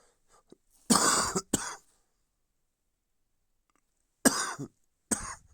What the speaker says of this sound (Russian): Извиняюсь за кашель